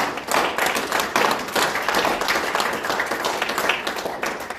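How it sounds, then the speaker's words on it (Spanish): A church congregation claps for the Lord during a Spanish-language service, loud dense rhythmic applause with sharp individual hand claps, steady throughout and close by. "Denle un aplauso para el Señor."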